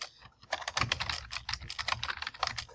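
Fast, steady keystrokes on a computer keyboard while an equation is entered in MS Word, crisp and close with dense rhythmic clatter and no talking.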